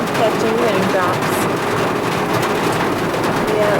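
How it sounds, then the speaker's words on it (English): Steady rain falls on a vehicle stuck on a rugged off-road trail, a constant close hiss with no talking. "It is raining."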